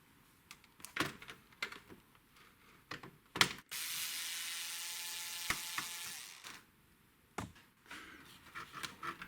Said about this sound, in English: First remove the screw behind the tray cover and then the two screws holding the entire mechanism in place.